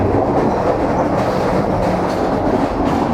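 A train running on rails, heard from inside an air-conditioned cabin coach on a long rail journey: a loud, continuous rumble with rhythmic clickety-clack of wheels over the joints, and no voices.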